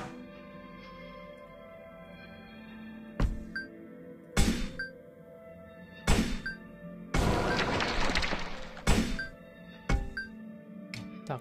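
Ballista shots in the dungeon game Runestone Keeper: a series of sharp booming impacts, about six spaced one to two seconds apart, with a longer crashing burst in the middle over a faint constant game background.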